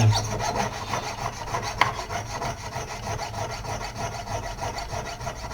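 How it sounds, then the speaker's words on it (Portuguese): A hand saw cuts slowly and carefully through the four metal jaws of a jewelry claw setting, giving a quiet, steady rasping stroke with one sharper click partway through. "Agora eu posso serrar as 4 garras aqui com cuidado"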